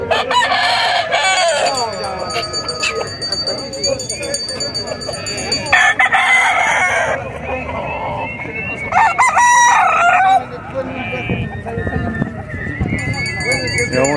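Roosters crowing repeatedly at a poultry and livestock market, loud and close, with clucking fowl, clip-clopping hooves and people talking throughout the busy scene.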